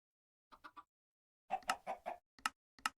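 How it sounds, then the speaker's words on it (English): A Minecraft chicken clucks in short choppy bursts, first a quick faint triplet, then a louder run of clucks followed by two sharp isolated calls, with silence between. "Where's that chicken at?"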